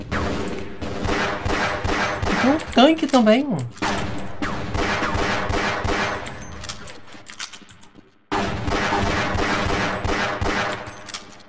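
Bursts of gunfire from the shooter Half-Life: Blue Shift, repeated volleys with a brief pause, heard under someone talking in Portuguese throughout.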